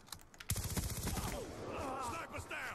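Rapid gunfire from an automatic sniper rifle in Black Ops 2, bursting in suddenly as a string of sharp cracks, followed by clattering mechanical noise and a warbling tone, with a voice talking underneath.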